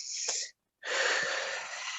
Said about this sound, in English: I'm just going to breathe normally